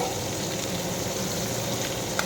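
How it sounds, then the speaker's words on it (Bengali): A continuous, fairly loud sizzle and spatter of small puti fish (pool barb) frying in a pan, with a small clink toward the end. "মাছটা দিয়ে ভাজি"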